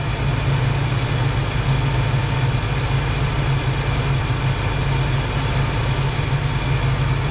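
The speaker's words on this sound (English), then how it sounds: "I'm going to go ahead and back this thing off a little bit." A Ford Foxbody Mustang engine idles at a lowered base idle, a steady, continuous low rumble held close and even throughout with no talking.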